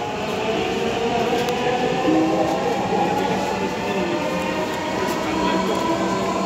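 Inside a Dhaka Metro Rail train bound for Motijhil, nearing Pallabi station: a steady, loud rolling rumble and electric hum from the carriage that continues evenly throughout.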